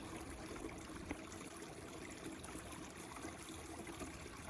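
Water flows down a small waterfall in a creek as a faint, steady rushing wash with no talk.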